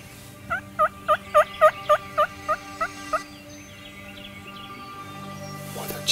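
Wild turkey toms gobble in a rapid run of about ten rattling calls, fairly close, fading toward the end, followed by quieter distant calls.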